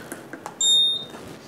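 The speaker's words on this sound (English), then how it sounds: "it beeps at you saying," A Cubic TrafficWare Commander traffic controller emits a single short, high electronic beep rejecting an invalid value entry, sounding clearly over faint keypad tapping and room noise.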